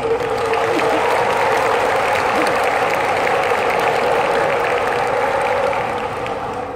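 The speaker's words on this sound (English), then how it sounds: "Let's give a round of applause to every one of you who are in this room today." Steady applause from an audience filling a room at a business seminar event in Singapore, dense and continuous for the whole stretch, tapering a little at the end, with crowd murmur mixed in.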